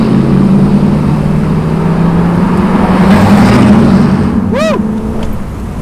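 Engine of a 1968 Pontiac Firebird muscle car pulls hard under acceleration, a loud sustained drone that swells midway, with a brief chirp near the end.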